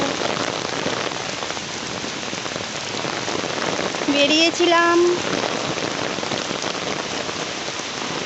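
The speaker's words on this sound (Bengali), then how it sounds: "আর বৃষ্টি পড়ছে, ছাতা মাথায় দেখতেই পাচ্ছ" Steady rain patters on an umbrella overhead, a dense even hiss throughout, with a brief spoken word partway through.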